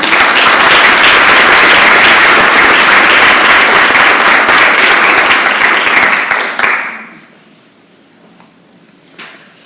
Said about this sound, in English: We could give them all a round of applause.